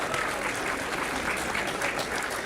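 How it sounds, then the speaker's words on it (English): A crowd applauds Adam at a junior B hurling championship club celebration, a dense, continuous round of clapping that runs from start to finish with no voices. "And round of applause for Adam."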